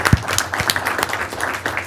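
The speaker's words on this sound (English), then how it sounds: "maybe we just give her a quick round of applause for starting the program" Scattered applause from a small audience at a city council meeting, a short burst of light claps that starts with one sharp nearby clap, continues unevenly for under two seconds and has a faint voice under it.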